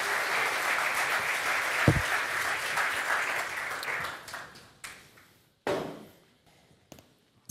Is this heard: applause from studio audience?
yes